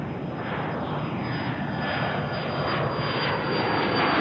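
An Embraer Phenom business jet climbs out after takeoff at Tucson airport, a steady broad engine roar that swells slightly as it goes, loud and continuous with no voices.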